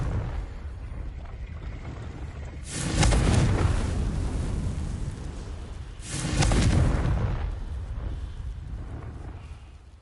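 Two loud, booming blasts from the Confringo explosion spell in the Hogwarts video game, each a heavy burst that rumbles and decays over a couple of seconds amid continuous game ambience.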